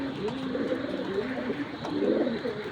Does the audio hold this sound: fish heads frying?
no